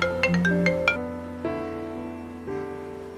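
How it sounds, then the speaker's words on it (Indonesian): Electronic phone ringtone playing a bright melodic chime pattern for an incoming call, clear and alone with no talking, the tones sustaining and repeating in steps. "saya mendapatkan telepon yang mengejutkan"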